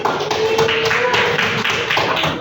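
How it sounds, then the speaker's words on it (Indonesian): Scattered classroom applause for a classmate, a steady wash of overlapping claps from a group of students, fairly loud and continuous for a couple of seconds. "Kasih aplaus ke teman kita Zulji"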